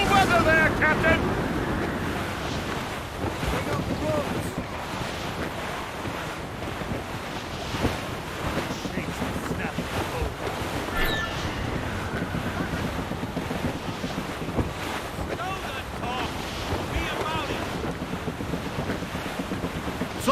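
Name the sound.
sailing ship in foul weather, wind and waves, Assassin's Creed Rogue video game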